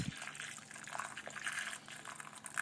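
Water is poured into a pot of artichoke dolma set on the stove, a soft continuous trickling and splashing heard up close for a few seconds.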